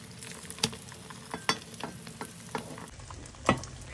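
Beaten egg hitting hot oil for a tofu omelette with red gravy, sizzling steadily with crackling pops and a few louder spatters, close and alone without talk.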